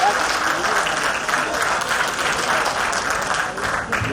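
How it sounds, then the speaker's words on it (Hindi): Audience applause for performing artists at an event in Sindh, a dense, steady wash of many hands clapping, loud and continuous throughout. "मैं चाहता हूँ आप सबकी भरपूर तालियों में"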